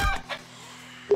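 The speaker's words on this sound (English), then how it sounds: "Oh, chicken! Come here, chicken!" A chicken in the survival video game 7 Days to Die gives a few short, close clucks, the first a bit louder, then a brief final cluck after a quiet gap.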